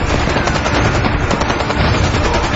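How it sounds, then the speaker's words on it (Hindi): Loud, dense gunfire rattles without pause in a dramatized story of the Mumbai 26/11 terror attack, a continuous close machine-gun burst filling the whole moment. "फायर शुरू हो गया, फायर शुरू हो गया।"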